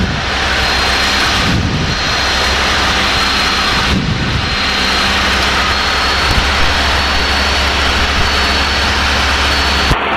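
Light aircraft engine droning steadily in flight near an airfield, a loud continuous hum with two brief dips in level, heard close from inside the cabin with no talking.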